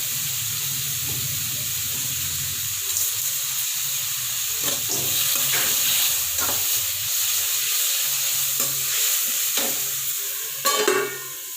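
Tomatoes sautéing with onion, green chili and whole spices in a pan for tomato kuruma, a steady close hissing sizzle with occasional stirring clicks and scrapes, no talking.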